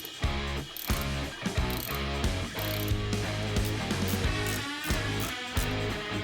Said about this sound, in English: So here I'm using a 9/16 deep socket to tighten up that P-clamp.